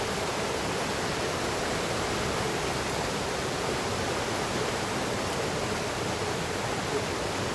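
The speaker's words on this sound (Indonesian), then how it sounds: "Ini dia lubang air terjun itu di bawah sana." Seen from above, a waterfall in rocky mountain terrain sends up a steady, broad rushing roar that fills the whole stretch evenly without a break, with no voices.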